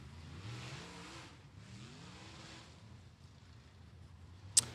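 Late model race cars run hot laps at Natural Bridge Speedway in Virginia, their engines faint and distant, swelling and fading as they pass, ending with a sharp click.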